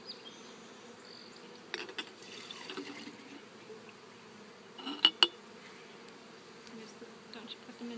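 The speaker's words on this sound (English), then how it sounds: "Amazing how docile bees are." Honeybees hum in a steady, low buzz close by, with a few sharp clicks and taps briefly cutting through.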